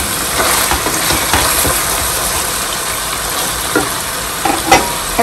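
Chicken pieces sautéing in a pan for a spinach and butternut squash curry, with a steady loud sizzle and occasional stirring scrapes and clinks, and no voices.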